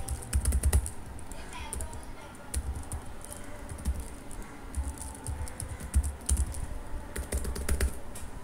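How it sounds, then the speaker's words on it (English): Computer keyboard typing in irregular bursts of quick clicks, entering names while programming in Python with a CSV module, with brief pauses between runs of keystrokes. "This typing really is a pain in the ass sometimes."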